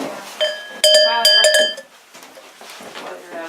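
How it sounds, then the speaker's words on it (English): A heavy, hand-hammered metal goat bell rings in several close, bright strikes with shimmering overtones, then fades as quiet voices and room noise take over. "That's another for goats. That's a really unique bell, especially with the design."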